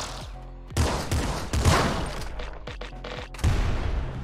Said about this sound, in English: Nuke launcher. That's gonna be a quad nuke though.